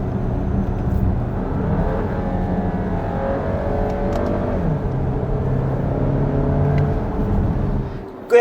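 Volkswagen Tiguan Allspace with a 2.0 gasoline engine pulling while driving, a loud, steady engine drone with rising and shifting tones throughout, heard from inside the cabin and ending in a brief bump.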